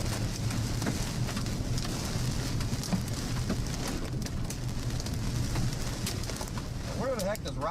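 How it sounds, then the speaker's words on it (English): Hailstones from a small supercell pelting a car during a storm chase, a dense constant patter and rattle on the body, with a voice talking faintly underneath. "The hailstones are hitting his car right now."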